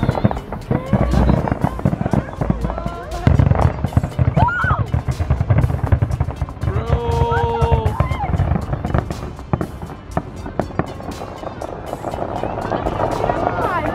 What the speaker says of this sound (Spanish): Los últimos cohetes que avientan al final.